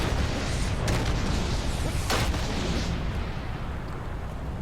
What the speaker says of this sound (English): Now just wait for a shot to go off and drop